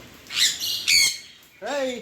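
Pet birds squawk in a cage in sharp, loud bursts, three quick harsh calls close by, with a short pause before the last.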